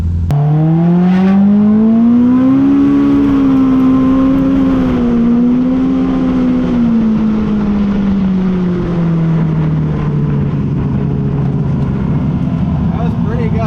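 A stock Polaris RZR Pro R UTV on 35-inch tires accelerates hard in low range on East Coast trails. Its loud engine climbs in pitch, holds, then eases down over about fourteen seconds, close to the listener.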